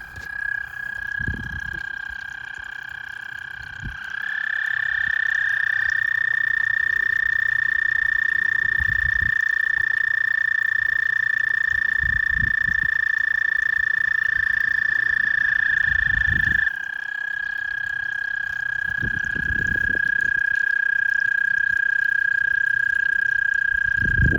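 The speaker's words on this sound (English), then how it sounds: "The big pond, and there's all these little frogs here" Many small frogs in a big pond at night form a loud, continuous trilling chorus that swells partway through, with low thumps and handling noise from close by.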